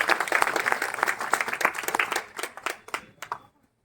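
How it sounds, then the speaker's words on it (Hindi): An audience at a Hindi-language inauguration event claps loudly and briskly for a guest, a dense burst of hand claps that trails off into a few scattered claps and then silence. "चलिए एक बार जोरदार ताली।"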